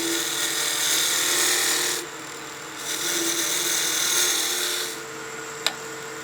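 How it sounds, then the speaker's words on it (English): Skew chisel taking peel cuts on spinning wood at a lathe, a steady broadband shaving hiss in two sustained bursts with a quieter gap between, ending in a brief tick. "So we'll practice our peel cuts here."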